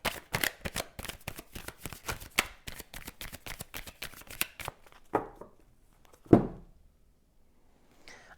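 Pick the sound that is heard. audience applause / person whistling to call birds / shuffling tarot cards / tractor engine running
shuffling tarot cards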